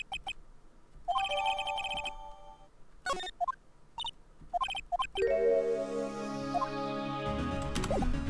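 A telephone rings in the Phoenix Wright: Ace Attorney video game, with short repeated electronic ring bursts followed by a louder, sustained layered tone.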